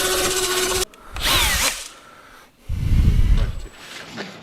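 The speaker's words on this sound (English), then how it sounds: "is matching the speed of the drill with the up and down" Power drill lapping the valves of a 27-litre Rolls-Royce V12 Centurion tank engine, whirring in short bursts that start and stop with grinding rubs in between, close and fairly loud.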